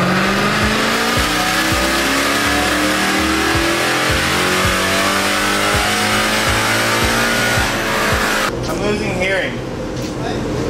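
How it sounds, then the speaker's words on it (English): A Mercedes C63 AMG with a pops and bangs tune revs hard close by, its loud engine note rising in repeated pulls with sharp crackles and bangs, then cutting off abruptly near the end. "Pops and bangs, pops and bangs,"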